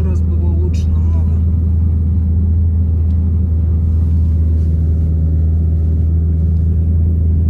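A car creeps slowly over rough ground, its engine and drivetrain producing a heavy, steady low rumble that stays close and unbroken, with faint voices murmuring underneath.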